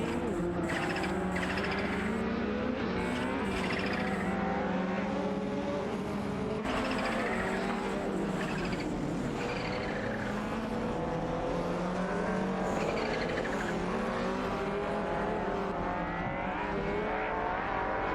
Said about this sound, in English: Skidon in the Lancia 37 is trying to hold off Komodo 3, also in a Lancia 37